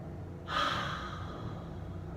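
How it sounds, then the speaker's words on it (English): One audible breath during a yoga pose with the head bent back toward the floor: a soft, airy exhale that swells suddenly and fades slowly against a quiet hiss. "Trying to relax under pressure. Breathing."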